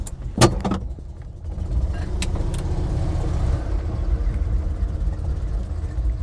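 An Invacar microcar's engine runs steadily with a low droning rumble, preceded by a few sharp clunks like a door and mechanisms.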